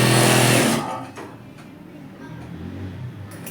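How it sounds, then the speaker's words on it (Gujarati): A sewing machine stitches a zipper strip onto capri trousers with a short, loud mechanical whir up close that stops after under a second, then faint room noise. "આ ડબલ પટ્ટી એની નીચે રાખી ને સિલાઈ મારવાની. સીધી સિલાઈ મારી દેવાની."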